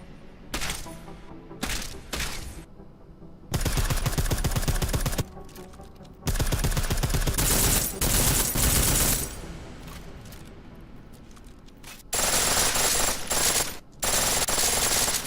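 Pistol and full-auto gunfire in the video game Deus Ex: Mankind Divided, heard as several loud, close bursts of rapid shots broken by short pauses and single cracks, with quieter stretches of game ambience in between.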